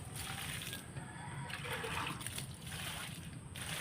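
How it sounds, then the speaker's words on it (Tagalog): Water from a stream splashes and trickles steadily onto the ground as plants, including sweet potatoes, are watered, soft and fairly faint, with a light hiss in the background. "So diligan na natin yan."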